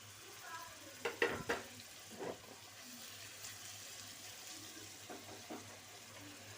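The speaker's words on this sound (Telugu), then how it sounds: "మనం ఫ్రై చేస్తే కొంచెం పన్నీరు బాగుంటుంది." Paneer cubes fry in a pan with a soft, steady sizzle, punctuated by a few louder stirring scrapes near the start and again toward the end; no one speaks.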